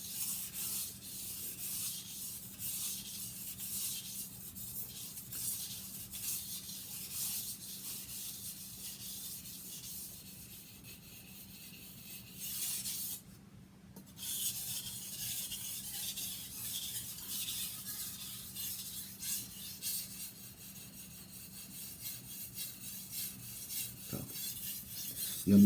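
A knife blade is drawn across a sharpening stone under light pressure, producing a continuous soft, gritty scraping that goes on for over twenty seconds with one brief pause partway through, close and quiet, with no speech.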